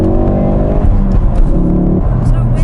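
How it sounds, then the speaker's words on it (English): A Ford Focus RS engine heard from inside the cabin, a loud low droning hum with shifting pitch as the revs change, with voices talking over it. "So now we're going to do an interior noise test in the Focus RS."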